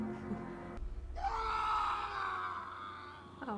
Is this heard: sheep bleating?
no